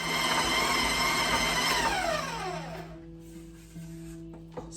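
An electric stand mixer beats eggs into gingersnap cookie dough with a steady, close motor whir whose pitch sinks as it winds down midway, leaving a quieter hum and faint clinks.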